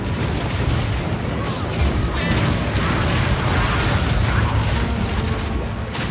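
Crossbow bolts firing in the video game Path of Exile 2, including armor-piercing, permafrost and incendiary rounds, as a dense, continuous stream of mechanical clacks, booms and bursts, loud throughout the scene.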